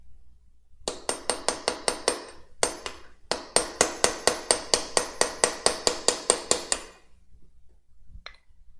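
A hammer strikes a chisel in steady, rapid, ringing blows during mechanical work, in three bursts: a short run, a brief pause, then a long even series before stopping.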